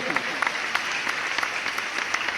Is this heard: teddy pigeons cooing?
no